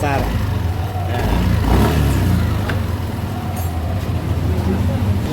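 A Yamaha Nmax scooter with a rough, shuddering vibration fault has its engine revved; a steady low drone swells into a rev around the middle and then settles, close by, with a voice talking over it.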